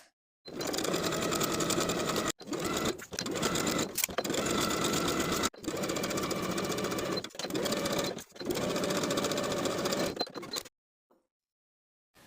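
A sewing machine stitches all the way around a fabric piece in loud, steady runs, with several short pauses where the stitching stops and restarts, ending in silence.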